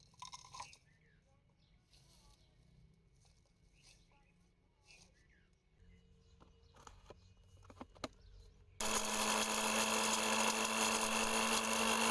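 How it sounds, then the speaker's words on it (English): A blender loudly grinds dried garden material into fine powder, a steady dense whir that starts abruptly partway through after quieter handling noises and continues to the end. "we will collect it and put it into a blender to grind it into a fine powder"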